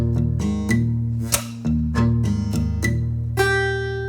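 A single bar of percussive acoustic guitar from a verse, with a thumb slap, the open sixth string, a pull-off and a first-finger hammer-on. Crisp slaps and ringing notes play up close with no voice.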